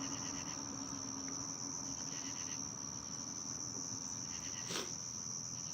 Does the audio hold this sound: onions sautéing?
no